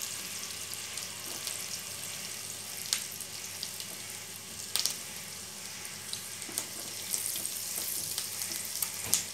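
Onion sizzles steadily in a pan while cooking for white sauce pasta, a soft continuous crackle with occasional sharper pops and light stirring, no talking.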